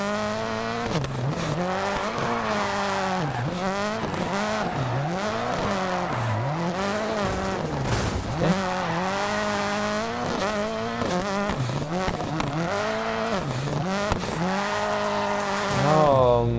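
A loud rally car engine in Dirt Rally 2.0 revs and shifts continuously, pitch climbing and dropping through repeated gear changes, with no voices.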